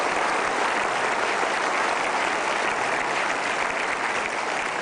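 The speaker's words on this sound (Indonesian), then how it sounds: "Oke, kita berikan aplaus dulu." A studio audience claps steadily for a few seconds, a dense even wash of applause from many hands at a constant level, with no voices over it.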